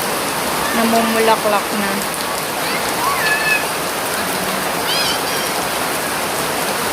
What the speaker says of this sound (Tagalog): Araw-araw talaga ang ulan dito. Napakalakas pa.